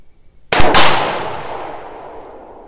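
A 6mm ARC rifle fitted with a muzzle brake fires one sharp, very loud report outdoors at a range, followed by a long rolling echo that fades over about two seconds.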